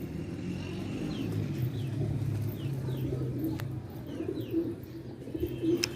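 Domestic pigeons returning to a rooftop loft in Karachi, soft repeated cooing over a steady low hum of outdoor traffic, with faint chirps scattered through.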